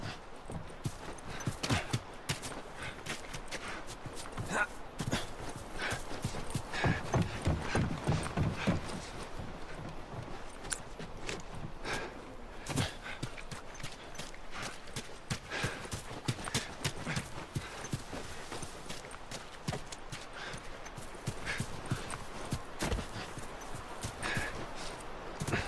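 Hooves clip-clop continuously as horses walk at a steady pace in The Last of Us video game, a dense rhythmic clatter of many steps over a faint background.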